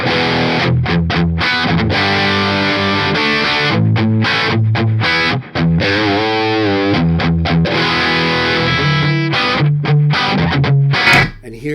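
Electric guitar through a Suhr PT100 amp head into a Suhr cabinet, playing loud, driven riffs with choppy stops and sustained chords, close and continuous with no talking.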